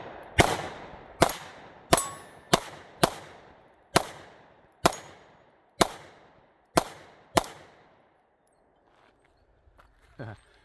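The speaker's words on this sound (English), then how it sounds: "let's do a little more shooting up here" Pistol shots from an FN Reflex carry gun ring out outdoors, about nine sharp cracks at a steady, slightly uneven pace, each followed by a brief echo, then quiet.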